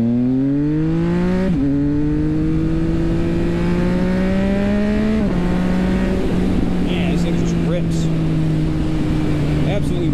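A Triumph Speed Triple 2019 three-cylinder engine with slip-on exhaust revs hard through several gear changes, its loud throaty exhaust climbing in pitch, dropping at each shift, then climbing again.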